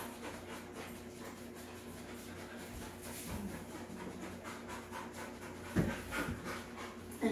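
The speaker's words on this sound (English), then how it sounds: "A lot of panting, a lot of drooling." A nervous dog pants steadily at close range, rhythmic quick breaths over a low constant background hum, with a louder burst of movement near the end.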